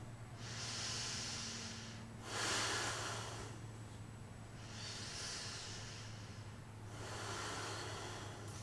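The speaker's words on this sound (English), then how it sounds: "So we're going to take about 3 or 4 more breaths here." Slow, deep breaths are taken during a yoga pose, with long airy inhales and exhales alternating in a steady rhythm, soft and close, over a low background hum, with no talk.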